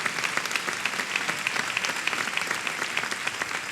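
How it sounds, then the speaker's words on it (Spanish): A church congregation claps during a Sunday morning sermon, a steady moderate patter of many hands heard alone at medium distance. "Denle un aplauso al Señor"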